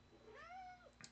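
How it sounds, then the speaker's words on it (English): A house cat gives a single short meow that rises and falls in pitch, faint and somewhat distant against quiet room background, with no talking over it. "That's my cat. If you guys hear him"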